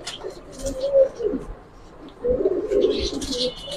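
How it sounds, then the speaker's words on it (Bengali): Army khaki Giribaz pigeons cooing close by in soft low bursts, two main phrases with a pause between, while someone talks nearby. "মানে লং রুটের জন্য খুব ভালো কবুতর এগুলা"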